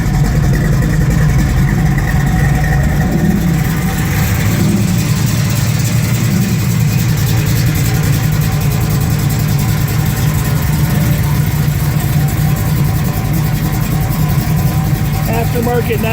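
A 1968 Chevy Camaro idles with a deep, steady exhaust rumble through a 2.5-inch Flowmaster exhaust, a low continuous drone with slight variations and no clear revving.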